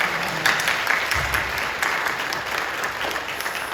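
Steady applause from a large church congregation, dense clapping filling the whole stretch at an even level without pause.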